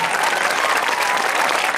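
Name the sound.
loud applause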